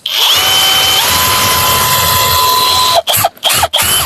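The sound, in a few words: drill screwing a hook into a wooden birdhouse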